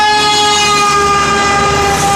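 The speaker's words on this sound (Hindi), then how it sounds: "रेलगाड़ी भी आई हुई है" A train arrives while its horn sounds a loud, sustained tone. The horn holds steady for the full two seconds over a rumbling rail background.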